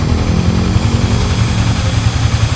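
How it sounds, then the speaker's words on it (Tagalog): The radiator fan of a Yamaha Sniper 155 motorcycle spins close by, a loud, steady whirring drone with a rapid fluttering pulse, alone without talk. "Ah, umiikot na yung pan."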